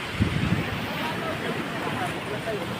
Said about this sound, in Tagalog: Napakalaki ng alon, no? Lalo niya, kuwaya. Pakita niyo mga idol, no? Grabe ang alon, no?